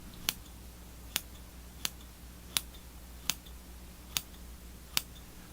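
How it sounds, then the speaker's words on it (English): Small curved surgical scissors trimming moss on a miniature bonsai forest, seven crisp, close snips spaced roughly evenly apart over a quiet background. "To prune the moss, I'll come in with my little curved surgical scissors."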